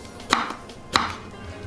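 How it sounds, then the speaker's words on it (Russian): A knife chops hot pepper on a cutting board in a kitchen: two crisp, close cuts about half a second apart over a quiet background. "Мы его нарежем."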